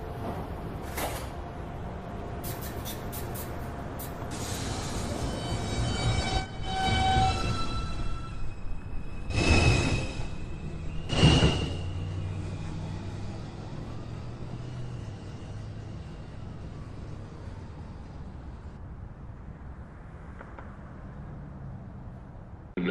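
A Manhattan-bound NYC Subway 2 train at 215th Street, a steady rumble with rattles, clanks and creaks over about twenty seconds, and a few sharp screeching bursts near the start and middle.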